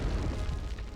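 A grenade goes off in the 1999 Medal of Honor game, a dense, loud, low boom that rumbles steadily through the whole second without a clear break.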